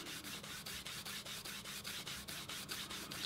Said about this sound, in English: Now we're gonna go in with our canvas, and we're just gonna burnish.